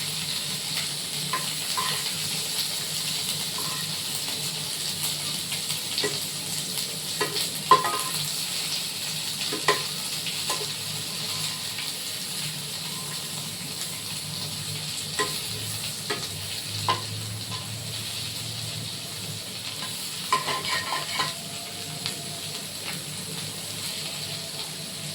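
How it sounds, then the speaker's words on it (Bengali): Boiled potatoes and egg curry sizzle in hot oil in a pan, a continuous close frying hiss broken by repeated scraping clicks of a spatula stirring and tossing. "এটাকে আবার কষাবো"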